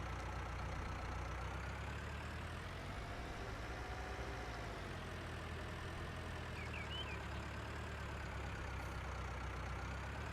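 A farm tractor idles in Farming Simulator 19, a steady low engine hum holding constant and fairly quiet for the whole stretch, with faint game ambience and a few light bird chirps above it.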